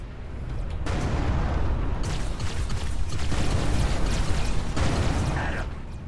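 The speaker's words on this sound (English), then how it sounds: "Fire all reserve torpedoes at once." Continuous heavy rumbling barrage from a salvo of torpedoes launched in the space combat game Everspace 2, with dense low booming and surges of bright crackle, loud and sustained throughout.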